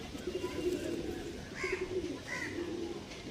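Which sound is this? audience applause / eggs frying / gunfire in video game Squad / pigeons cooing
pigeons cooing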